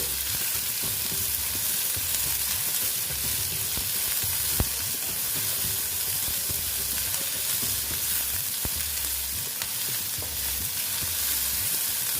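Chopped onion with salt frying in a pan, a dense continuous sizzle with faint occasional stirring ticks, close and steady, with no voices.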